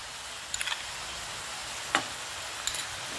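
Leftover roti noodles with tomato ketchup being stirred in a sizzling pan, a steady soft hiss of frying with three brief scraping clinks of a spoon against the pan spaced across.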